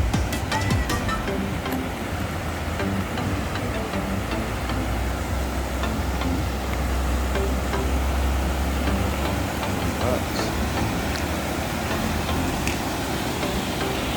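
Floodwater at Timber Creek during 2023 flooding, a loud continuous rushing roar with a low rumbling undertone that stays steady and unbroken throughout, no voices.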